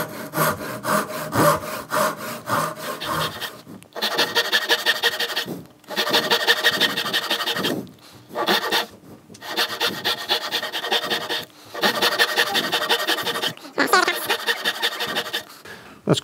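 A hand saw cuts through clamped wood for a wooden boot rack, with loud, rhythmic rasping strokes in steady bursts and a few short pauses between runs.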